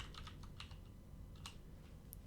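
Someone types quickly on a computer keyboard, a quiet run of soft, irregular clicks and key taps heard close up with no talking.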